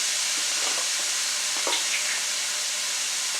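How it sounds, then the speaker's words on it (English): Onions frying in olive oil for shrimp curry produce a continuous bright sizzle and hiss, with a few faint stirring clicks near the start. "And then I'll add the onions and then shrimp."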